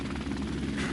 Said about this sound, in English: helicopter's really annoying me.